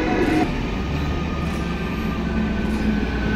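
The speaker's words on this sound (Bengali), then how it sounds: "এখন অ্যানাউন্সমেন্ট হয়ে গেছে, ট্রেন আসছে, ভিড় বাড়তে শুরু হয়ে গেছে। অলমোস্ট ঢুকিয়ে গেল প্ল্যাটফর্মে।" A passenger train pulls into a station platform on a Shantiniketan route, with a steady low rumble of wheels and carriages and faint crowd noise from waiting passengers.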